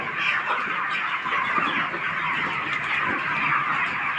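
A dense flock of broiler chickens clucks and chirps continuously inside a poultry farm shed, a steady loud overlapping chorus with no pauses.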